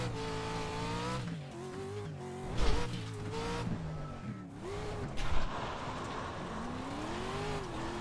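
An off-road truck in iRacing slides sideways on a rough track, its engine revving and rising and falling in pitch with scrabbling tires and occasional thumps from bumps.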